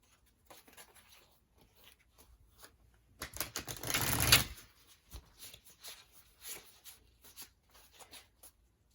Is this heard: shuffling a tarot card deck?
yes